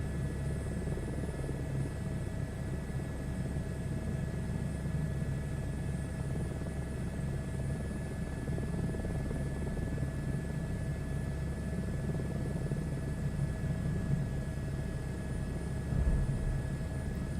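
A helicopter in a VR flight game flies low with its skid dragging along the ground, giving a steady, continuous rotor-and-engine drone that holds at an even level throughout with no talking.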